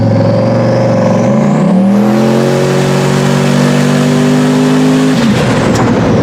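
A turbocharged truck's loud engine revs hard during a street pull with a rising whine of turbo, accelerating steadily up close, then the pitch drops as it lets off.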